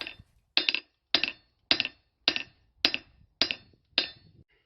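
Eight evenly spaced, ringing hammer blows strike hot steel on an anvil to flatten it, each sharp metallic clang decaying quickly into silence before the next, close and clear with no talk.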